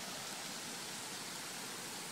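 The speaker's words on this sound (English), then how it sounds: "It's a beautiful creek." Freshwater creek flowing on a bush walk along the Georges River in New South Wales, Australia, a steady, dense rushing wash of water that stays constant throughout with no voices.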